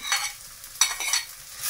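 Onion and garlic sautéing in oil in a pan give a soft sizzle, broken by two or three quick stirring scrapes of a utensil. The sound is close and brief, with no voices.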